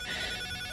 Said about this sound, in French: le collier de repérage peut aussi sonner et vibrer